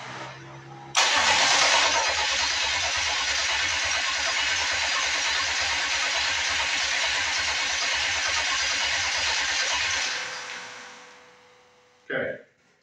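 A Detroit Diesel engine fitted to a lawn mower is cranked over at length with a loud, rhythmic churning whir that fails to catch and winds down, followed by a short final burst.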